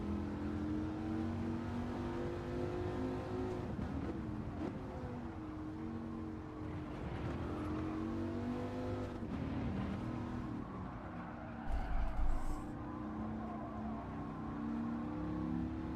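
A race car in Gran Turismo 7 revs hard and loud through its gears during a time trial, the engine note climbing and dropping with several upshifts over a steady roar.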